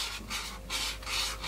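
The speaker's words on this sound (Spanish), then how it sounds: "Con un poco de papel de lija, de grano fino, le doy un poco así." A new Meinl Hybrid 5A wooden drumstick being sanded by hand with fine-grit sandpaper: a close, dry rasping rub in quick back-and-forth strokes, about four passes in under two seconds, with no talking.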